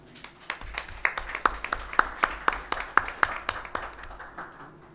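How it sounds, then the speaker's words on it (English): At the inaugural session of an IFLA library satellite meeting, the audience claps for the conference organizers. The claps are crisp and evenly spaced in a steady rhythm and continue for several seconds without speech. "They all deserve a big round of applause at this point."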